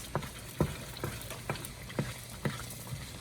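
A tomato and garlic mixture sizzles in a pan while a utensil stirs it in a regular rhythm, giving about seven soft scraping strokes over a continuous quiet frying hiss.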